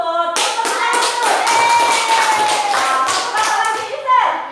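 Schoolchildren in a classroom clap their hands together in a quick rhythmic pattern, loud and close, with children's voices chanting over the clapping throughout.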